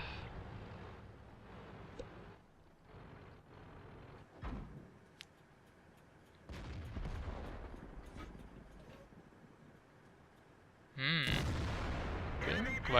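Tank cannon shots in World of Tanks on the Malinovka map from an AMX AC mle. 48, heard as several dull booming blasts spread through the clip, with a louder burst near the end, under quiet talk.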